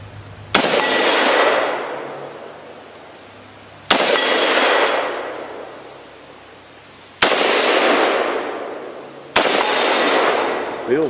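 Four loud shots from an FN FAL rifle fired at targets, spaced a few seconds apart, each a sharp crack followed by a long ringing decay, with no talking.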